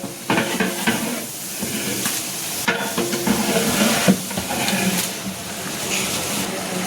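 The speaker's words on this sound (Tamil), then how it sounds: "அப்படியே அடி பிடிக்க விடாமல் கிண்டிடலாம் மசாலா போட்டு" Meat cooking with masala in a pot is stirred steadily, giving a continuous sizzle and hiss broken by scraping and knocking of the spoon against the pot, with no talk.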